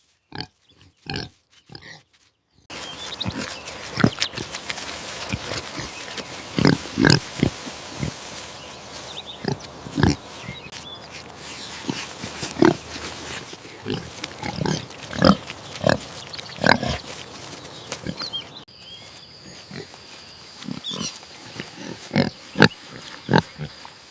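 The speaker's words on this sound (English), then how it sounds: "You're such a good pig." A pig grunting after being rescued from a python attack, a series of short irregular grunts and snorts, close and moderately loud, spread across the whole stretch with scattered thumps and movement and no talking.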